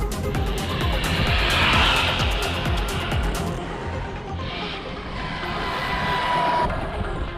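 A WLtoys RC car fitted with a bigger motor and faster gearing on a stock ESC whines along a narrow street, a steady high-pitched motor drone with tire noise that eases off briefly midway, then picks up again.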